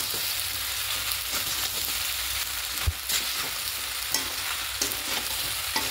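Pasta stirred in a hot pan for a restaurant-style dish, with a soft continuous sizzle and repeated scraping strokes, one sharper clatter midway, and nobody speaking.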